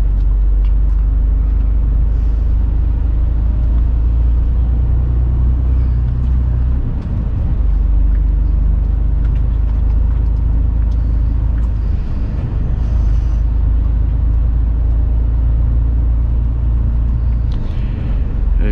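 A truck moves along a road through a town with alternating traffic, giving a loud, continuous low rumble that holds steady for the whole stretch with only slight dips.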